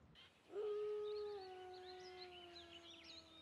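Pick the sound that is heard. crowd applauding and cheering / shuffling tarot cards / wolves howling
wolves howling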